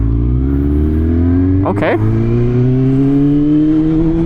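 A 2020 Yamaha R6 with a titanium exhaust can and ECU flash runs steadily near at hand, its engine note climbing through a sustained ride with one sharp surge, while a rider speaks briefly over it.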